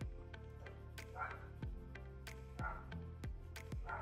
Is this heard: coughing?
no